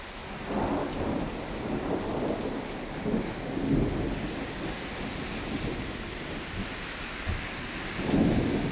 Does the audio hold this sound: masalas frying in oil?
no